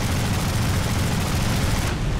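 Sustained machine gun fire in War Thunder, a dense loud rattling burst running continuously and close, with a roaring background.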